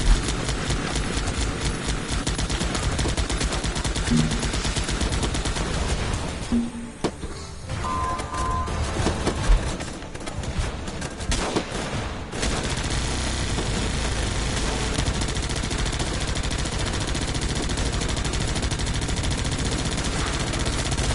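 Sustained automatic gunfire from the player's own units in a real-time strategy game, loud and continuous with dense rattling shots, briefly thinning mid-way before resuming at full intensity.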